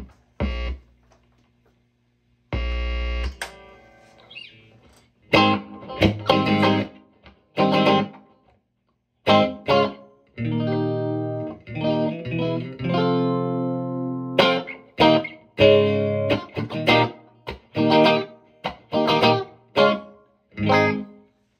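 An electric guitar plays through a Fender Super Champ X2 tube and modeling amplifier, with a couple of isolated notes followed by a run of distorted, reverberant chords and single-note phrases, close and loud with short gaps of silence between figures.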